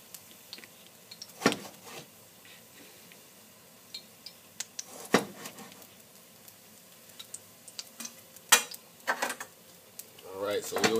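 A garlic clove goes into a pan while a chicken breast is seared, bringing sharp metallic clinks and clatters of pans and utensils at scattered intervals over a quiet background, then a rising sizzle at the end.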